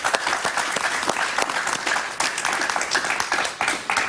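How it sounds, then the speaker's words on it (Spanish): A television talk-show studio audience applauds in a dense, steady stream of overlapping claps lasting about four seconds, with no talking over it. "Un aplauso para María Fernanda."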